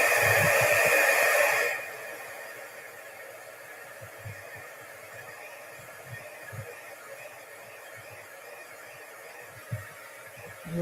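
A heat tool blows hot air to dry a craft egg, a loud, steady whoosh that runs for under two seconds at the start, then cuts off and leaves quiet room noise with faint small knocks.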